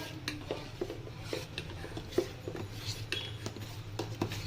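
A spoon clinks and scrapes against a vessel while vinegar water is stirred into hot milk, with soft irregular taps and light knocks at close range.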